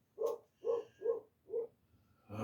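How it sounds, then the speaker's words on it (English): A dog barks four times in an evenly spaced series, moderately loud and somewhat distant in a quiet room, followed by a brief burst of other noise at the end. "Oh, that dog."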